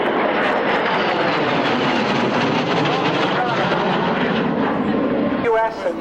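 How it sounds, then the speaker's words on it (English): A Harrier jet flies past at an airshow with a loud, continuous roaring jet blast that stays at full strength throughout and cuts off sharply near the end, while a commentator talks over it. "So you can say the Harrier is well and truly integrated."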